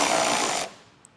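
A power tool whirs steadily as it backs out two 8mm screws from the inside of a vehicle tailgate, the buzzing motor stopping abruptly halfway through, followed by a faint click.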